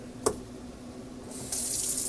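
A kitchen tap runs water through an under-sink filter in an RV. A brief clunk comes first, then low background hum, then a steady rushing stream starts and continues, close and moderately loud.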